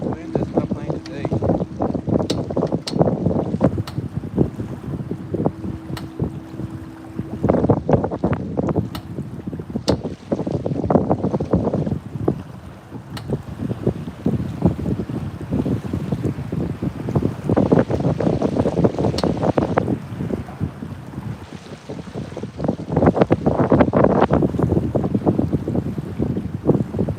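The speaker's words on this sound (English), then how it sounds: "The wind is not playing today." Strong wind buffets a fishing boat on the Cumberland River in Middle Tennessee, a steady broadband roar with gusting swells across the whole stretch, with water slapping the hull and voices talking faintly underneath.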